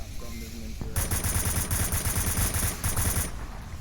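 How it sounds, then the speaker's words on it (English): Rapid automatic gunfire in the VR shooter Onward during a competitive match, a loud sustained burst of evenly spaced shots lasting over two seconds after a brief quieter lead-in. "Game Reaper firing."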